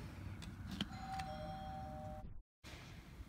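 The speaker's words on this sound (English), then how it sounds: "The doorbell actually sounds like a real doorbell." A doorbell chimes twice over steady background noise, with the sustained tones ringing on before the sound cuts out briefly and resumes.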